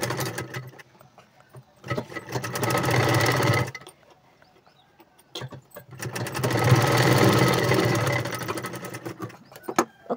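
A sewing machine stitches folded cloth for a boat neck blouse, droning loudly in two long runs with a quiet gap between them and a brief start at the end.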